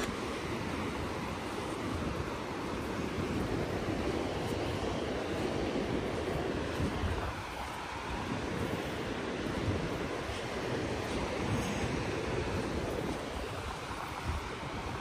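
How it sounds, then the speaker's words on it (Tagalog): Heavy ocean surf rolling and crashing continuously, with strong wind roaring across the microphone throughout, at a beach with cold 15-degree weather. "Look at the waves, it's scary."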